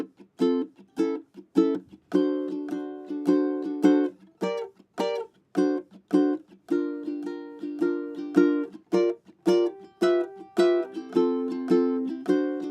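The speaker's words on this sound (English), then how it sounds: "Like I go 1 bar muted swing and then the next bar just swing." Acoustic guitar strumming in a swing feel, switching between short choked, muted strokes and fuller ringing strums, played alone.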